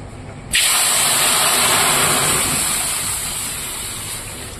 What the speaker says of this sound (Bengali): এবার আমি ডালে পরিমাণ মতো জল দিয়ে দেব।